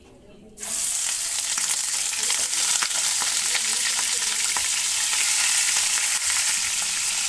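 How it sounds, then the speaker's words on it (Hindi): Chicken pieces dropped into hot oil in a pan, setting off a loud, steady crackling sizzle that starts abruptly and continues unbroken to the end. "देखिए तेल गरम हो चुका है, इसमें हम चिकन को डाल देंगे"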